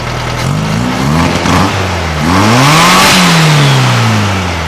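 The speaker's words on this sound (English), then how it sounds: "That is revving up a shit ton better." An old 1956 VW Beetle engine revs up and down in repeated climbing and falling surges, loud and close throughout with no talking.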